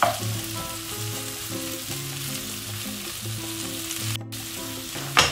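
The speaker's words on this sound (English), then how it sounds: "Another half of tofu. Let it cook together." Tofu stir-fries in a hot pan with a loud, continuous crackling sizzle, broken by a brief clatter and a sharp bump at the end.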